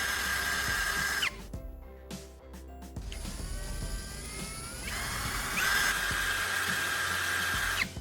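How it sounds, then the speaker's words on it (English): A power drill whines in steady bursts as it bites into a thin metal can for an antenna, with short pauses between holes and a brief rising pitch as the motor spins up. "I'm drilling additional holes around the sides of this combined can piece."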